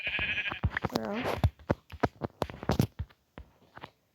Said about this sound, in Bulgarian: Че е тази прибита овца